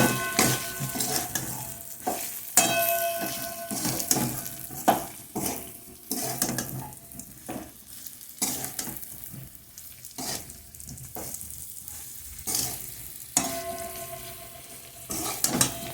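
Banana flower (mocha) being stirred and fried in a pan, with a steady close sizzle and repeated scraping strokes of the spoon against the pan throughout, no voices.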